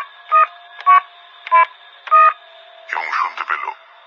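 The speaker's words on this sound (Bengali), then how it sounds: "ফ্ল্যাটের নাম্বার ডায়াল করল" Telephone number dialed as a radio drama sound effect: four short, evenly spaced bursts of tones, each with stacked pitches, followed by a louder, rougher burst of sound.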